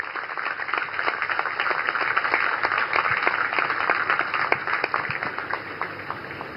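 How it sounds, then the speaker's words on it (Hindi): At an official ceremony dedicating warships, a large crowd welcomes India's Prime Minister with sustained applause, a steady dense patter of many hands heard somewhat at a distance over a constant hum. "जोरदार तालियों के साथ उनका स्वागत करें।"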